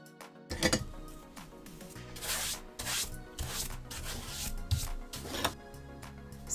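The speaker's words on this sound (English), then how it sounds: "I spend ages filing" A nail file rasps against fingernails in short, uneven strokes, close and fairly quiet, with little pauses between bursts of rubbing.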